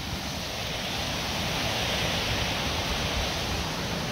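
A hidden waterfall at Whitnall Park in Franklin rushes in a constant broadband roar, a steady unbroken hiss of falling water heard alone.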